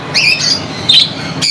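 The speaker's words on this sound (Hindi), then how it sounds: "ये ज़ेब्रा फिंचेस है।" Common zebra finches in a pet shop give a few short, bright nasal calls in quick succession, close and clear with faint room noise behind.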